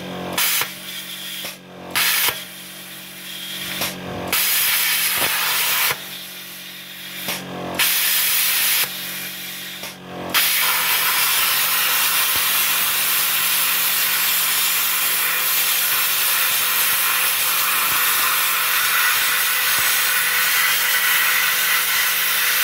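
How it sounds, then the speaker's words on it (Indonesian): A CUT 45C G SB multipro plasma cutter with its air compressor running: several loud bursts of harsh hissing with short gaps, then a steady continuous roar and hiss that carries on unbroken, close and with no voices. "Jadi selama mesin ini digunakan, maka kompresor ini akan menyala secara kontinu ya"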